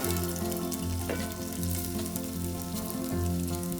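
Chopped onion sizzles loudly in hot oil with curry leaves and green chili, a dense, steady frying crackle that lasts throughout, close by, with no voices.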